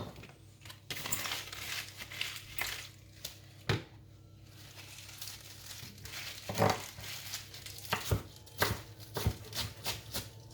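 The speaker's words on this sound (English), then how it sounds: "Now let's use a knife and just run it through." Knife cutting through leafy salad ingredients including spinach, a series of irregular crisp chopping and crunching strokes, close and fairly loud, with no talk.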